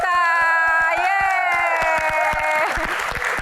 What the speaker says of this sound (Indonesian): Dan tepuk tangan paling meriah untuk Bang Loko